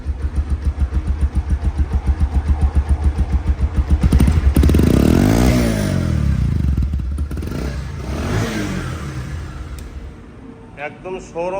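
A used Bajaj Pulsar single-disc motorcycle idles with a quick, even pulsing thump up close, then the throttle opens into a couple of rising and falling revs before the engine drops back to a ragged idle.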